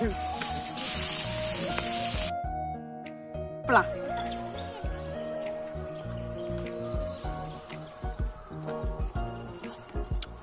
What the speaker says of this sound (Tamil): இதான் நம்ம பொரிக்க போறோம்.